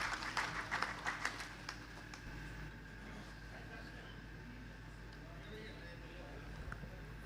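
An audience at an education policy workshop claps, a burst of applause strongest at the start that fades into a dull hall murmur.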